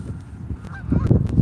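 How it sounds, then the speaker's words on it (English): Ducks honk close by in a short flurry of harsh, nasal calls that grow louder and more frequent toward the end, over outdoor background noise. "these ducks make a lot of noise now"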